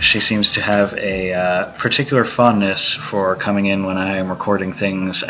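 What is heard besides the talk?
No everyday noises stand out.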